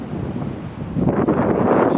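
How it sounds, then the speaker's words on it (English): Strong, gusty wind of about 25 mph with gusts near 40 buffets a hunter's tree stand, roaring loudly into the microphone and surging harder partway through. "But as you can see, this wind is crazy."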